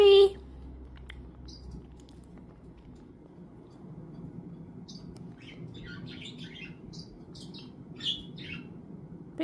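Pet budgies chirp and chatter while feeding, with scattered short high tweets of moderate loudness through the clip over a low room rumble and a brief thump at the start.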